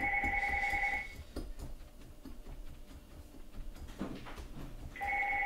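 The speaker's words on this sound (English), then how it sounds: "That's the phone ringing in the background." A telephone rings in the background of a kitchen, two trilling bursts separated by a gap of quieter room noise and clatter.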